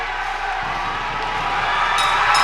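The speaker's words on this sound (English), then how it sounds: "Crowd's chanting tap." A wrestling crowd at a live independent match chants together in a steady, loud roar that swells and builds toward the end, with occasional sharper shouts cutting through.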